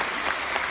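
Applause from an audience at a business lecture forum fills this brief moment with a continuous, even wash of clapping hands.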